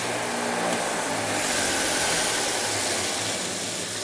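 A JET 6 x 89 inch oscillating edge sander runs steadily with a loud, constant whirring roar and a low motor hum underneath, close and unbroken for the whole stretch, with no talking.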